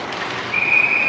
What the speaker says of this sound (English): offsides is the call for that whistle